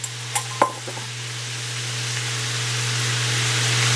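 Chicken fried rice sizzles in a hot pan with a few quick scraping stirs at the start, then a steady, rising hiss under a low constant hum.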